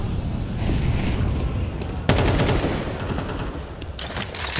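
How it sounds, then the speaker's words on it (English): Counter-Strike match at the ESL Pro League, with dense bursts of rapid gunfire and a sharp grenade blast partway through, loud and close, followed by more scattered shots. "He'll respond with a nade of his own."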